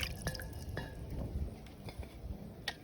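Water drips and trickles as okra is rinsed, giving a few soft close splashes and droplets over a quiet background.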